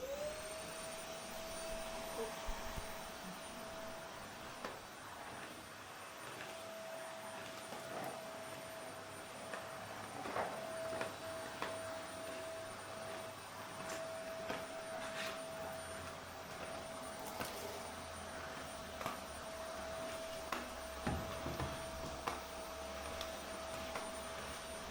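A vacuum cleaner runs steadily while someone cleans the floor beside a washing machine, a continuous whining drone with a fixed pitch that stays loud and close, with faint bumps and knocks as the nozzle moves.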